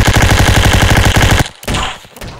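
Rapid automatic gunfire from the video game Block Strike during a team deathmatch, a loud, steady burst of evenly spaced shots for over a second, then a few scattered fainter impacts and clatter.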